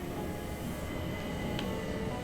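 Inside the Murder on the Orient Express game, a train rolls along with a steady, low rumbling drone and a faint passing squeal partway through.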